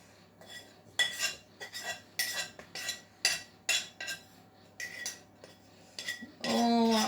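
Spoon scooping chocolate cupcake batter out of a bowl, a series of close, distinct scrapes and clinks against the bowl at an uneven pace, ending in a louder rattle, with no talk.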